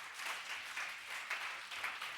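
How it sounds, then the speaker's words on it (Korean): Continuous applause from a church congregation during a Sunday service, faint and somewhat distant, with clapping swelling in soft waves. "우리 주님께 영광의 박수 올려드리겠습니다"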